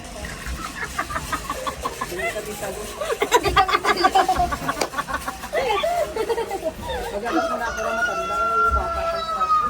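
A rooster crows repeatedly nearby, its long rising calls standing out over a lively backdrop of people talking and laughing.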